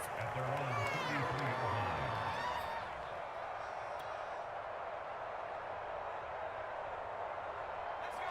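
Stadium crowd noise in the American football video game Madden NFL 22, a steady broad roar of spectators holding at an even level throughout, with faint voices in the first few seconds.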